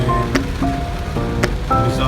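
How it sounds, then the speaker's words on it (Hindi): Steady heavy rain pours down in Pakistan in a dense, continuous wash, with brief tonal sounds and clatter rising above the downpour now and then. "बहुत तेज़ बारिश"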